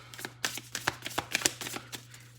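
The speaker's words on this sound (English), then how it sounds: "Last shuffle." Tarot cards shuffled by hand in a quiet room, a run of crisp riffling flutters and soft slaps that come in quick irregular bursts, with a steady low hum underneath.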